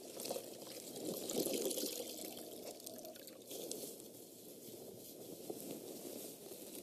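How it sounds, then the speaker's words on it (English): Water poured and trickling while rinsing catheter tubing during female catheter care, a steady soft splashing flow with small surges, close and continuous. "You want to rinse that tubing off the same way you washed."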